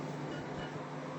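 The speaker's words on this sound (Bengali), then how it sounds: "চিমনিটা চালিয়ে নিই।" A kitchen chimney exhaust hood fan runs with a steady, even whoosh and low hum, close and constant throughout, with no voices over it.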